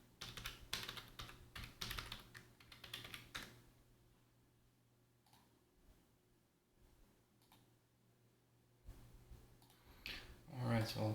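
Quick bursts of keystrokes on a computer keyboard as a password is entered at a machine's login screen, clustered clicks at the start and again near the end, with quieter room hum in between.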